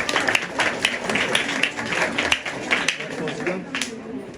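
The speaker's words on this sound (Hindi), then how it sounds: "जोरदार तालियां।" Guests applauding at a wedding ceremony just after the ring vows, a dense steady patter of many hands clapping, fairly close and loud, with some voices underneath.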